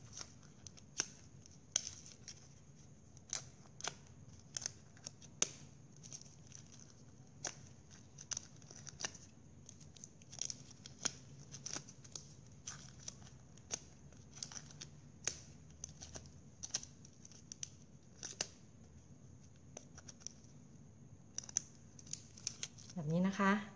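The tip of a pair of scissors curls plastic drinking straw petals into a flower with a string of light, sharp clicks and scrapes at irregular intervals, close and quiet against a soft background.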